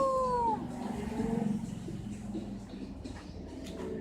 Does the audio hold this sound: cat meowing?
yes